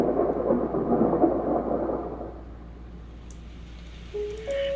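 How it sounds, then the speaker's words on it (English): Thunder rumbles loudly with steady rain in a played music recording, the roar fading after a couple of seconds while rain continues, then a soft tonal note enters near the end. "Oh, we got actual rain."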